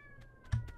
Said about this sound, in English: Cat's still harassing me.